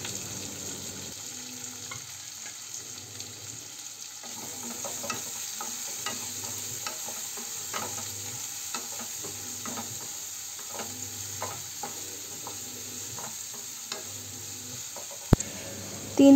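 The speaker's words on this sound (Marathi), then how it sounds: "आता याच्यामध्ये आपण कढीपत्ता घालून घ्यायचे, मिरची घालायची आणि कांदा घालून छानपैकी परतवून घ्यायचे।" Onion, curry leaves and chili sauté in a pan for Maharashtrian zunka, a soft steady sizzle with repeated scraping and stirring clinks throughout, fairly quiet with no talk.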